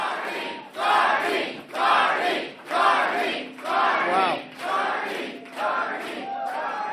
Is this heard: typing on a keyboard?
no